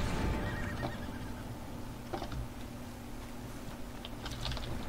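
A horse in Red Dead Redemption 2 gives a loud neigh at the start, followed by scattered hoof clip-clops and light taps over a steady game background.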